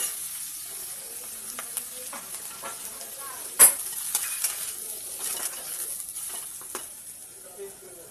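Potatoes, eggplant and chillies sizzle gently in a pan while a utensil stirs and scrapes, with one sharp metallic clank partway through.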